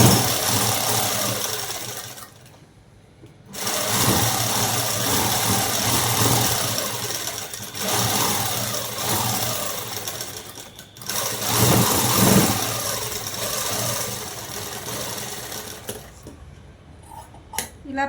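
A sewing machine stitches a soft cloth baby dress, its rapid mechanical whirring running in long close-up bursts separated by brief pauses.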